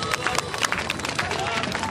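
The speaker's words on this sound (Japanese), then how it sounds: "もう一度大きな拍手をお願いいたします。" Applause from a crowd at a cosplay stage event in Himeji, recreating the deck-up of an Ingram robot with people, steady clapping that fills the whole stretch along with some crowd noise and voices.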